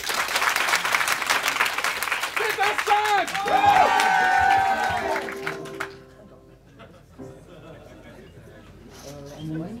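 Improv theatre spectators at a Paris festival clap to vote, a thick round of applause with some cheers and laughter that swells, then fades out around the midpoint, leaving quieter chatter and a voice.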